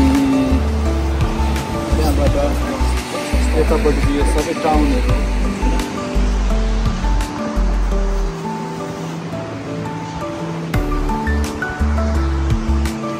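Sea surf on the coast near Eastbourne, a steady wash of breaking waves heard outdoors, with someone talking over it throughout.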